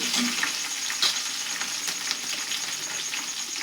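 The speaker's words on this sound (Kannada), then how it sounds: "ಈಗ ನಾನು ಕರಿಬೇವು ಹಾಕ್ತೀನಿ. ಆಮೇಲೆ ಹೆಚ್ಚಿಟ್ಟಿದ್ಮೇಲೆ ಮೆಣಸಿನ್ಕಾಯಿ ಹಾಕ್ತೀನಿ. ಎಣ್ಣೆ ಒಳಗೆ ಫ್ರೈ ಮಾಡೋಣ." Curry leaves and chopped green chillies frying in hot oil, a steady fine sizzle with crackling pops throughout, close and alone without voices.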